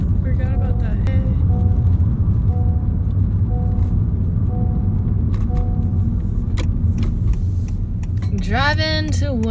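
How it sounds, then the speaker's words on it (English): Car driving on the way to work, a steady low road rumble and engine drone filling the cabin, with a voice talking over it and a brief clatter near the end. "Driving to work."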